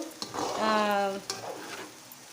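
Masala sizzles softly in oil while a spoon scrapes and clacks against the pan a couple of times, with a brief tonal hum in between.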